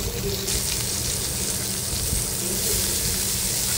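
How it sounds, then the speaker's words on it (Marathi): Washed cabbage going into a hot pan with turmeric for a Marathi cabbage masala, a close, steady hiss of sizzling and moisture holding evenly throughout without pause. "आता आपण स्वच्छ धुवून घेतलेला कोबी याच्यामध्ये घालायचा आहे।"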